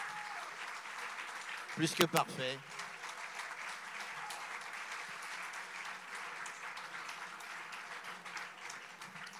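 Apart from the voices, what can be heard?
audience applause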